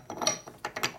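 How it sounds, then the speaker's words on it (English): A socket wrench ratcheting during a 1983 Harley FXRT 80ci shovelhead top-end rebuild, two short bursts of quick metallic clicking, close and quiet. "this is called a socket"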